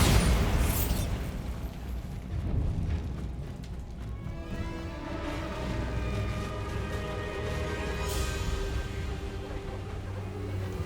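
Bombarda spell explosion in Hogwarts Legacy, a heavy bursting blast at the start followed by rumbling debris and a second bright pop, with ringing tones lingering under the decay.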